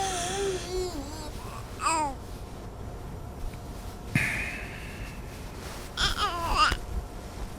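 A baby in the video game We Happy Few babbles and coos in short, rising and falling vocal bursts with brief pauses and a small snort, heard up close over quiet background.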